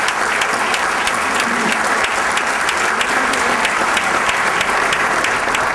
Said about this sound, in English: Do we have a round of applause for them?